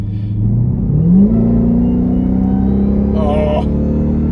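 A Dodge Durango Hellcat SUV's supercharged engine climbs in a loud, rising rev while driving, settling into a steady rumbling drone, with a short burst of talk near the end.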